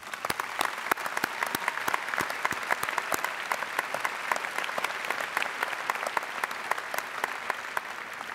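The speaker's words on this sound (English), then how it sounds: "Let's all give the graduates a great round of applause." Audience applauding graduates at an MBA commencement ceremony, a steady dense clapping from a large crowd that runs unbroken and fairly loud throughout, with no voices over it.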